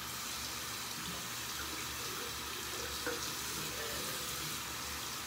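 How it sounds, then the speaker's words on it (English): A razor blade is rinsed under a running tap, giving a steady, even hiss of water that stays faint and close throughout, with no voices. "What you're gonna do then is go ahead and rinse off the blade so there's no more gunk"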